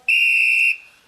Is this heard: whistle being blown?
yes